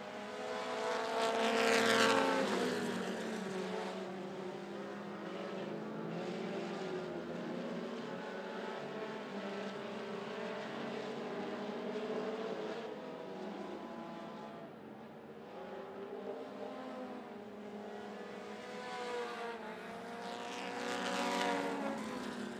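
Mini stock race cars racing at 411 Motor Speedway, engines droning continuously at a distance with louder surges as cars pass near the start and end.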